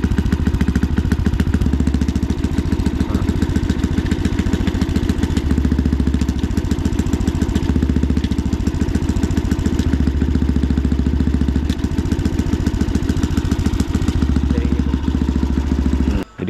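A motorcycle exhaust fitted with a dB killer silencer runs close and loud in a steady, throbbing rumble that holds without a break for the whole stretch before cutting off abruptly at the end.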